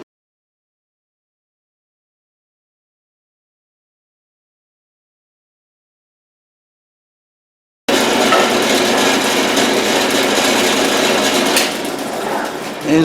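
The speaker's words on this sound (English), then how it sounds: "I'm going to drill a couple of holes." A power drill bores holes into a wooden box fitted with a drill stop, a steady loud whirring grind that starts abruptly after a long silence and runs continuously to the end.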